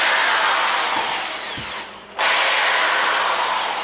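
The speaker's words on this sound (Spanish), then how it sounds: "Enchufo el Black Decker en su modalidad taladro, porque la tiene también de martillo." A Black & Decker drill in drill mode boring into a wall, loud continuous high whine that sags and briefly stops, then resumes at full strength.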